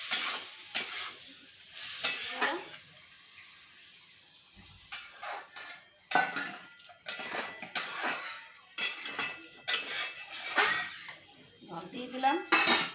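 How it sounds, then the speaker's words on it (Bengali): Spice paste with salt and a little water being stirred and fried in a metal pan for a fish curry, bursts of sizzling broken by scraping and clinking of a spatula against the pan, in irregular bouts. "এবার নাড়াচাড়া করে মশলাটাকে ভেজে নিই"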